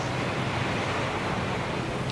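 A Volvo Ocean Race yacht's bow pushes a lot of water aside during the Sanya in-port race, giving a continuous loud rush of surf and spray mixed with wind buffeting.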